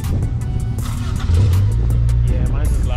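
Honda EG Civic engine revving up close, a loud rising growl that swells midway and holds steady, with background voices faintly audible.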